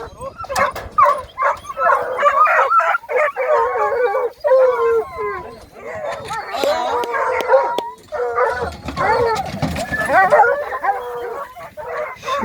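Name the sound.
hunting dogs barking and howling during wild boar hunt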